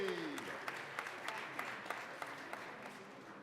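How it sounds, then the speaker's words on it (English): Applause rises in the Colorado Senate chamber for a visiting senator, a steady patter of many hands, moderately distant, with a voice briefly heard at the start. "Can we all give a round of applause for Senator Brophy?"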